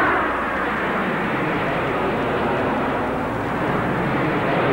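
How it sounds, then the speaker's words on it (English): A jet aircraft's engine noise, recorded for a 1968 NASA aeronautics study of the problem, holds as a loud, steady broadband roar with no break for the whole stretch. "Jet aircraft noise is a continuing national problem."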